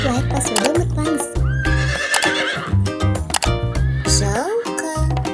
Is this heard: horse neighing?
yes